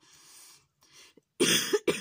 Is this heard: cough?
yes